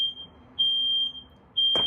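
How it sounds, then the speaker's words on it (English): A smoke detector set off in a home kitchen while baking keto blueberry muffins and bacon sounds two loud, steady high-pitched beeps, each lasting about a second, with a brief noisy clatter at the very end. "fire alarms are off"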